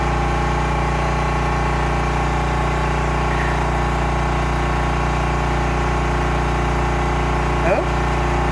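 A well water pump drawing from a 600-foot well at an off-grid home hums steadily throughout, a constant low mechanical drone with a brief higher squeak near the end.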